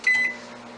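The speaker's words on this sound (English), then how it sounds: "I'm going to microwave it on high for 2 minutes." A microwave oven running on high hums steadily after a brief high beep-like tone at the start, the low drone continuing evenly to the end.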